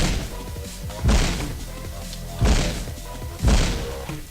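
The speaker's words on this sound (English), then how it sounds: "Lay some bombs down." Bombs exploding in the video game Paranautical Activity: three heavy, booming thuds land about a second apart over a steady bed of game sound.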